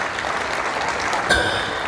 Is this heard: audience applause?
yes